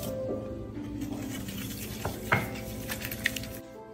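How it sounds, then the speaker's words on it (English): Eggs and egg yolks being whisked with white and brown sugar in a bowl for a chocolate pudding: steady soft scraping and stirring with a few sharper clinks of the whisk against the bowl, close and fairly quiet, no voices. "Whisk 2 eggs and 2 egg yolks."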